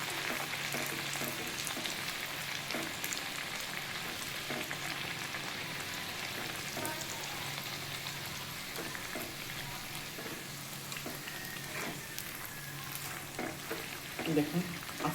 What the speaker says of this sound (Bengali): কড়াইয়ে তেল গরম হয়ে গেছে। এরপরে আস্তে আস্তে যেটা আমি ভেজে রেখেছি সেটা দিয়ে দেবেন, জাস্ট লুচির মতো করে।